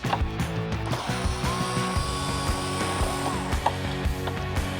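A hand ratchet with a T25 Torx bit clicks in quick repeated bursts, close up, while bolts are removed from the windshield of a 2023.5-on Harley-Davidson Street Glide.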